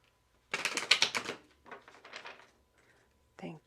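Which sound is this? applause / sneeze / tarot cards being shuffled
tarot cards being shuffled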